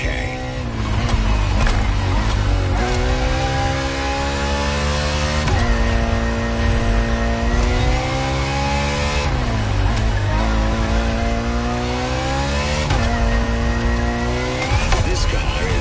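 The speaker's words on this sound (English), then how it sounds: "This second lap, you'll be driving the FXXK." Ferrari FXXK supercar driving a lap in the racing game The Crew Motorfest, a loud, sustained engine note rising and falling through repeated gear changes with brief tyre squeal, continuous for the whole stretch.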